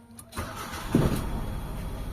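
A Mitsubishi Lancer with a check-engine fault and low power cranks and catches, then runs roughly with an uneven misfire, close and fairly loud with no talking.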